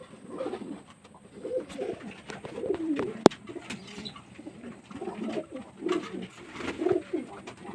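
Pigeons coo again and again in a rooftop loft, their soft throaty calls overlapping in an uneven chorus at close range, with a sharp click partway through and light rustling between the calls.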